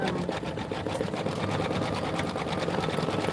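A quilting machine stitches a Lori Holt Home Town embroidered quilt in a booth, giving a steady, fast, even mechanical whir that runs unbroken and close for the whole stretch.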